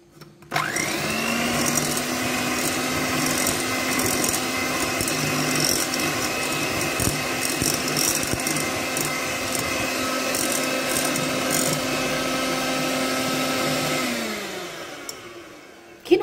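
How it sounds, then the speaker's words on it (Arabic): An electric whisk beats dry Eid cookie dough, starting with a sharp whine that holds a loud, steady motorized buzz for about thirteen seconds before winding down and stopping. "ملاحظه مهمه، نخلطوها جيدا بالفوي"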